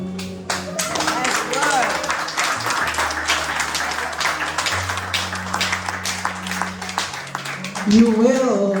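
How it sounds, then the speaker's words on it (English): An audience at a 2024 Brainerd graduation ceremony applauds the choir, a dense and steady burst of many hands clapping in a large hall, with faint talk and music running under it. "Clap them on, they did well."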